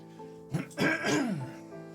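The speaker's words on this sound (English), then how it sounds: "Including trying to clear my throat." A single short throat clearing, close and moderately loud, in two rough bursts after a brief quiet start.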